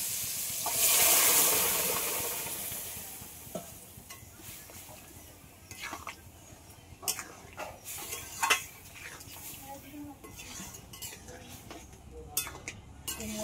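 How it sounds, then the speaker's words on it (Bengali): Cooked mung dal poured into a pot makes a soft gushing splash near the start. Scattered clinks and scrapes of utensils follow against a low kitchen background. "এবার আমি ডালটা ঢেলে নিই।"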